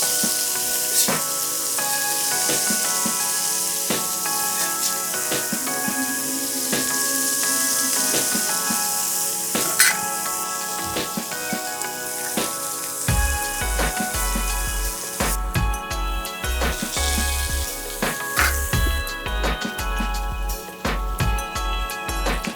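Pancakes sizzle steadily on a Thermador griddle, a soft continuous frying hiss. Scattered clicks and light knocks of utensils and plates cut through it, busier in the second half.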